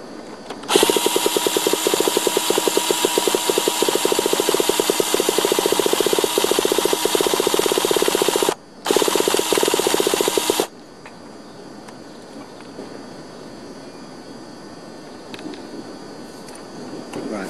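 A Thunder Tiger Ducati nitro RC motorcycle's starter whirs loud and buzzing for about ten seconds with one brief break, then stops, leaving quiet background sounds.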